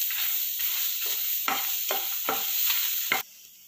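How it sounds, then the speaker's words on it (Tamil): Grated coconut is stirred and roasted in a hot pan with dried chillies, garlic and curry leaves, a steady close sizzle broken by regular scraping strokes of a spoon, ending abruptly. "தேங்காய் போட்டு வறுக்கலாம்."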